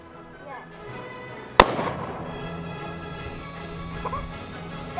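A single loud, sharp crack from a .30-06 rifle fired at a jar target outdoors, followed by a long ringing decay, with faint voices before and after.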